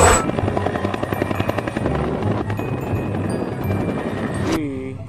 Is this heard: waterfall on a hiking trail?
no